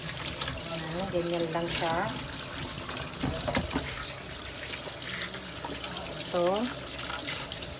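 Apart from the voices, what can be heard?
washing chicken under a running tap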